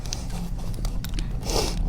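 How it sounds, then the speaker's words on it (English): Sour candy strips are chewed close to the microphone, giving wet, sticky munching and soft crunching in an irregular rhythm, with no talking. "Here comes the chewing part."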